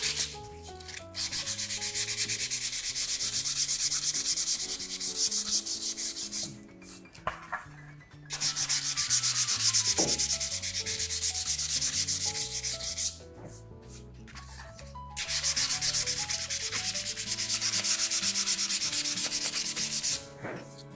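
A painted box is hand-sanded with 220-grit wall sandpaper, loud close gritty rubbing in long sustained bursts separated by short pauses, with no talking.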